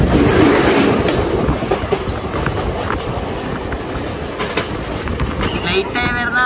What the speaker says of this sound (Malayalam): മംഗലാപുരം തിരുവനന്തപുരം മലബാർ എക്സ്പ്രസ് ആണ് കാണുന്നത് കേട്ടോ.